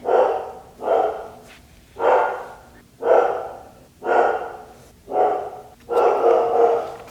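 A guard dog barks steadily nearby, about seven loud, evenly spaced woofs with short pauses between them, each with a strong, breathy body and no talk over it.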